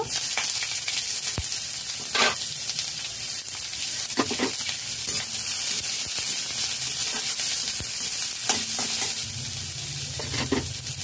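Chopped onion drops into hot oil with garlic already fried red over low to medium flame, giving a continuous close sizzle with occasional stirring scrapes, steady and fairly loud without speech.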